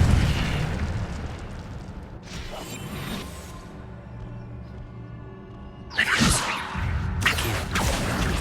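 Incendio fire spell cast in Hogwarts Legacy, a sudden whooshing burst of flame around six seconds in with a second flare after, over a low mechanical background hum.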